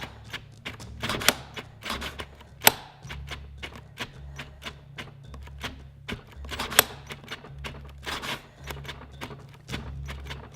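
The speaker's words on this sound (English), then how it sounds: "I just keep clicking the trigger to bypass it" A Ryobi cordless drill's trigger is clicked over and over to get past its thermal cutoff, giving quick, irregular tapping clicks close up at a fairly low level, with brief motor bursts under the clicks.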